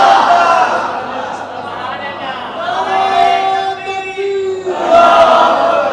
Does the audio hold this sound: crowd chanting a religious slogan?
yes